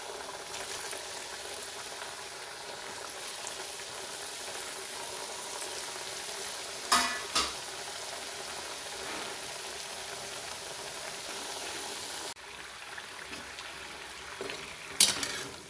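Rice flour vada fry in hot oil, a continuous soft bubbling sizzle at moderate distance, broken by a couple of brief clinks of a utensil.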